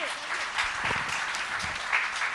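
Audience at a Jain religious gathering applauding: a steady, moderately loud patter of many clapping hands lasting a couple of seconds, with faint voices underneath.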